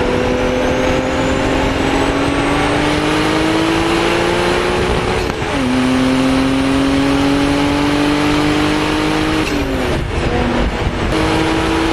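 A slammed twin turbo Toyota Soarer accelerating hard, its engine note climbing steadily through the gears with brief dips at shifts, loud and close, alone without talk.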